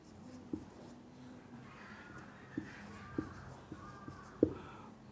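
A marker taps and scratches on a board as letters are written, faint scratchy strokes broken by a handful of small sharp taps against a steady room hiss.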